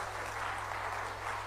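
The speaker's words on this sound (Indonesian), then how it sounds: "tepuk tangan buat semuanya kita" Steady applause from a church congregation during a sermon, a continuous dense wash of clapping that stays even throughout with no pauses.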